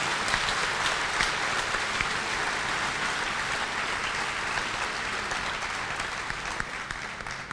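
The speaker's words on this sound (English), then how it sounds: "Can we give a round of applause to Allen County Schools?" Graduation audience at an Allen County high school ceremony applauding steadily, a dense sustained clapping that fills the whole stretch and tapers only slightly at the end, with no talking over it.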